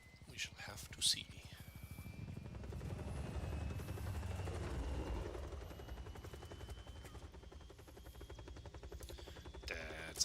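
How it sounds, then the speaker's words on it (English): A Hind D helicopter in a video game, its rotor thrum sustained and fairly close through most of the stretch, with brief gunfire-like bursts and a voice speaking over it at times. "That's a helicopter."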